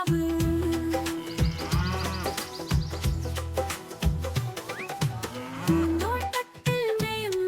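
A cow moos within a Malayalam nursery rhyme about a white cow and her calf grazing in a flower garden, the lowing woven through a bright, steady musical backing with no singing voice.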